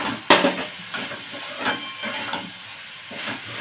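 Fish pieces drop into a hot pan of simmering vegetable curry and set off a sharp hiss and spatter. A steady sizzle and crackle follows, close to the pan, with a few scrapes and stirring knocks.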